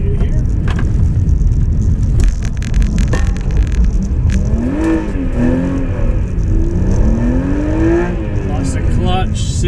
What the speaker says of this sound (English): Lost the clutch. See. Just loads of noise and not doing anything.